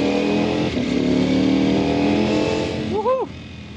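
Ducati Panigale V4R superbike at speed on a straight, its engine droning loud and close with a brief rising rev near the end, mixed with wind rush.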